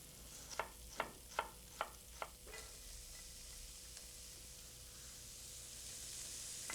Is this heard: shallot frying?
yes